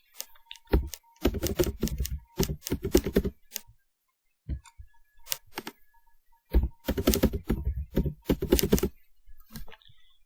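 Computer keyboard keys tapped in quick bursts while a password is entered for a new account, clustered flurries of clicks separated by short pauses, close and clear with no talking.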